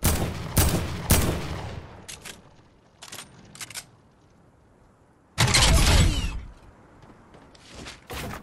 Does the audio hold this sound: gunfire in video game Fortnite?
yes